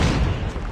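A grenade blast in Call of Duty Mobile, a dense loud boom rumbling broadly with no distinct onset, heard close and filling the short moment alone.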